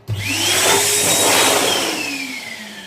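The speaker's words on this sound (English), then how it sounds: "look how powerful this hand dryer is" A powerful electric hand dryer motor whirs up abruptly and roars loudly with a strong airy rush and a whining tone that slowly drifts down.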